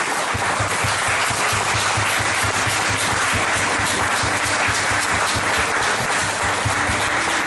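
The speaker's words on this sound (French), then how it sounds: "J'aimerais qu'on puisse acclamer la parole de Dieu" A church congregation applauds, a dense, continuous wash of clapping at steady loudness with rhythmic beats underneath, sustained throughout without speech.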